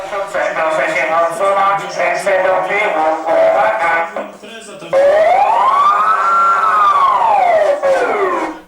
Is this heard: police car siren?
yes